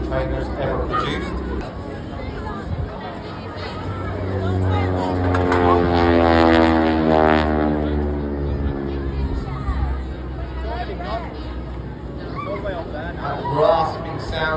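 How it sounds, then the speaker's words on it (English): T-6 Texan propeller at an airshow in Blackpool, its tips rasping at supersonic speed as the aircraft passes, a rising and falling drone swelling in the middle over crowd chatter and commentary. "That rasping sound you hear is not coming from the engine. The engine's fine. It's actually the tips of the propellers as they go"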